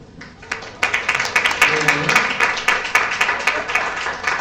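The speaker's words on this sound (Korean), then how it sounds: "박수" Audience applause at a Korean book concert, a burst of clapping that swells in after a quiet start and carries on steadily and fairly loud, with a few sharper claps and faint voices underneath.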